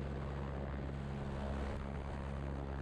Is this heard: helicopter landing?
yes